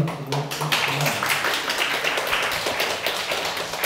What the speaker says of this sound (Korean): 오늘 강연을 해주실 박사님께 큰 박수로 환영의 박수로 부탁드립니다